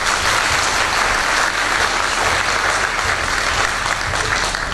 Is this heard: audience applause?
yes